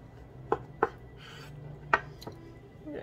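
Knife slicing steak for a salad on a cutting board, a few sharp knocks of the blade against the board at uneven spacing, close and fairly quiet, with no talk.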